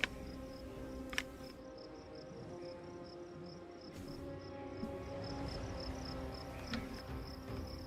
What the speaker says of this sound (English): Can you guys hear cicadas?